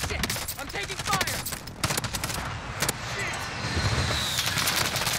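Rapid automatic gunfire in the video game Call of Duty, fast loud repeated shots crackling close by in continuous bursts, with brief pauses and dense battle noise throughout.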